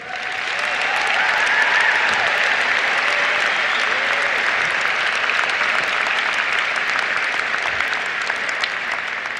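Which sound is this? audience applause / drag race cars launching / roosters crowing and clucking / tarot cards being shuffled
audience applause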